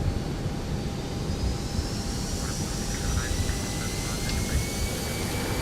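Simulated ToLiSs A320ceo jet engines spooling at takeoff in X-Plane 12, a loud steady roar with rising whine tones, heard from inside the flight deck under a broad rumble.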